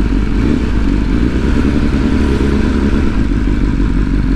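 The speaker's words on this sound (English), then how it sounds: "So we just pulled up on the bikes." Tuned 2022 BMW S1000R motorcycle riding along, a loud continuous engine roar mixed with wind rush, steady throughout at close range with no talking.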